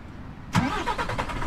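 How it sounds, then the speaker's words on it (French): A Renault truck's diesel engine in Euro Truck Simulator 2 cranks and fires after a quiet moment, catching quickly and settling into a rough, pulsing idle, with no talking. "Le beau moteur diesel"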